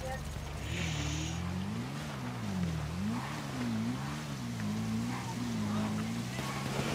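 Motorcycles in GTA V Online revving up as they accelerate, engine pitch rising and falling in repeated waves under a steady road rush, with voices talking over it.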